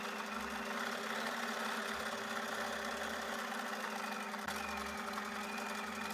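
Sewing machine running a zigzag stitch with a standard presser foot, a steady fast mechanical whir and hum with a brief shift in pitch partway through, close and fairly quiet.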